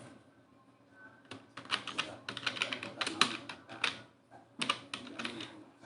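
Fingers type on a computer keyboard in quick clustered bursts of clicks and key shortcuts, separated by short pauses, fairly quiet and close.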